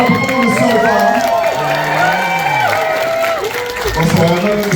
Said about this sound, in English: So, big cheer to our performers so far.